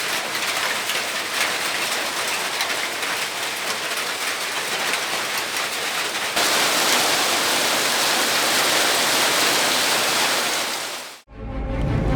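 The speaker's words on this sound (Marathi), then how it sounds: "रत्नागिरी जिल्ह्यात राजापुरात मुसळधार पाऊस पडला." Heavy rain falls at Rajapur in Ratnagiri district in the Konkan, a dense and steady roar of drops that grows louder partway through and breaks off sharply near the end.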